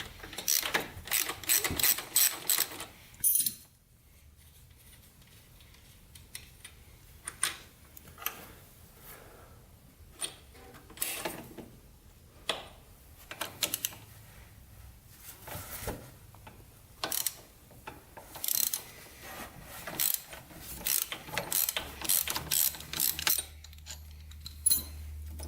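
A ratchet wrench backs a 12 mm bolt off a Honda 200X in close, rapid bursts of clicking pawl ratchets, separated by short pauses and fainter handling noise.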